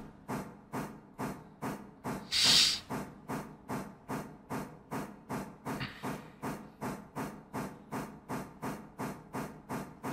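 Steam locomotive in the train game Railroader working hard, its exhaust barking in a steady rhythm of about two beats per second, with a brief louder hiss of steam partway through.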